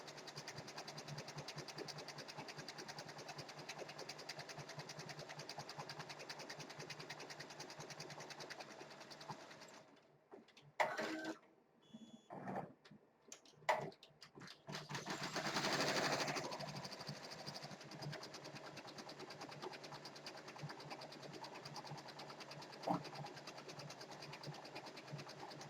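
An Avance 1501C embroidery machine sews at full speed, a fast, steady mechanical chatter of stitches that pauses briefly midway with a few clunks, then resumes its even running rhythm.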